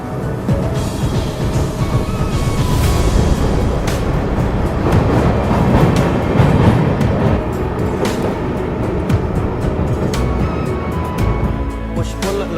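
A train hauled by a locomotive from the Golden Rock shed, Tiruchirappalli, crossing the Pamban bridge to Rameswaram, a loud, close, continuous rumble with rhythmic wheel clatter, faint voices underneath.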